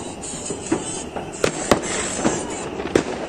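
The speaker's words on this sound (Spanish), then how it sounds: "ya están tirando cohetes" Fireworks and firecrackers pop and crack repeatedly at New Year in Florida, Uruguay, with sharp bangs at irregular intervals over a steady outdoor background hiss.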